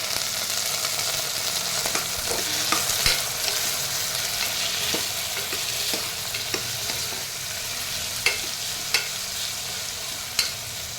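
Yam pieces and onions sizzle and fry steadily in a pan, with occasional sharp clinks of a utensil stirring against the metal; no one speaks.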